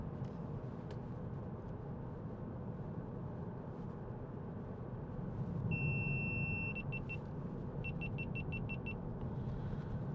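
A 2019 Volkswagen Passat 2.0 TDI GT DSG diesel driving on a road test, heard from inside as a steady low road and engine rumble with a few short electronic beeps partway through and no talk.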